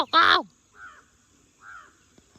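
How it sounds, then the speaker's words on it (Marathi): Two separate crows caw in an Indian forest camp, each a short raspy call spaced about a second apart and moderately distant. A brief human voice sounds just before them, with quiet surroundings between the calls. "कावल्यांचा कावकावाट चालू आहे इथे"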